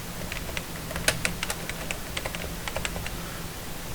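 A run of quick, light key taps on a computer keyboard at an uneven rhythm, recorded close and quiet with no talking.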